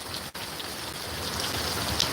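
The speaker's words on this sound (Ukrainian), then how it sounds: "а дощ не перестає." Steady rain falls outdoors near a shed in Ukraine, a dense, even hiss of drops striking surfaces throughout, close and continuous with no voices.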